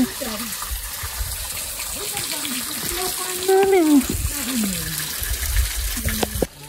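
A steady gushing flow of water in a rural village, loud and continuous, with a person talking over it from start to finish.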